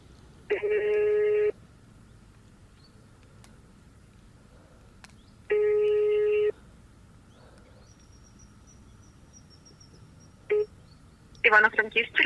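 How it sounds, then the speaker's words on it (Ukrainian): Telephone ringback tone while calling the fish patrol from a Dniester riverbank, two long evenly spaced ring bursts over quiet background, then brief clicks and tones as the call connects. "О, гудочок пішов."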